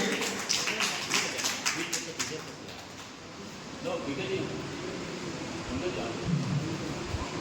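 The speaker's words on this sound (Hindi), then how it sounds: "एक बार जोरदार तालियां इस बच्चे के लिए" Crowd of children and adults applauding for a deaf and mute child at a Lions Club event, a burst of clapping at the start that fades into roomy murmur and chatter.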